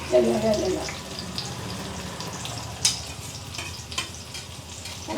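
Five small shallots fry in a pan with a low, steady sizzle, broken by a few sharp clinks of a utensil. A brief burst of sound opens the moment.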